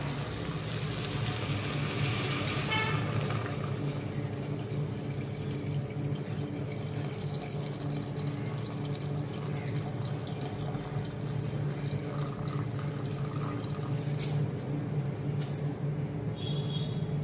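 Water pours steadily into a pot, a continuous rushing splash that lasts throughout with no talking.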